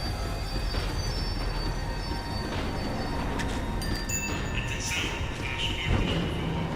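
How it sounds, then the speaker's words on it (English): A tram in the Max Payne 3 video game rolls and slows, with a steady rumble of wheels on track, high squealing and metallic clicks, and a louder clunk near the end. "The tram was slowing down, and I'd only just gotten on board."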